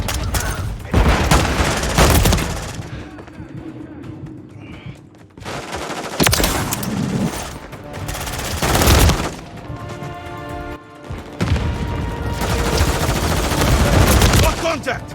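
Loud shotgun blasts from dual-wielded akimbo shotguns in Call of Duty: Modern Warfare 3, booming in several bursts of rapid, overlapping shots with brief lulls between, amid in-game battle chatter.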